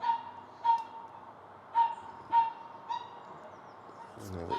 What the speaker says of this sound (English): Dog barking outside